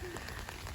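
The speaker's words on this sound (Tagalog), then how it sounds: "umuulan na" Steady rain falls on a spring day in Japan near a sakura tree, a dense, even hiss of drops on surfaces continuing without pause throughout.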